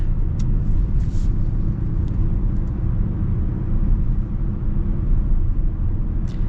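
Cabin of a 2024 Mazda CX-50 on the move, a steady low road rumble and tire drone with a few light clicks, no one speaking.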